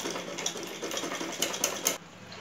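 Sewing machine stitching a handle strap onto an umbrella-style top, a quiet run of fast rhythmic needle clatter with a few sharper clicks, stopping abruptly near the end.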